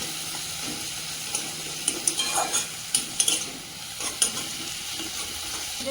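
Tomato, garlic, green chilli and coriander leaves fry together in a pan, a steady close sizzle broken by scattered scraping stirs and light utensil clinks.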